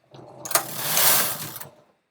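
A home knitting machine carriage sweeps once across the needle bed to knit a row of stitches, a loud whirring mechanical rush of about a second and a half that swells and fades, with a click at the start.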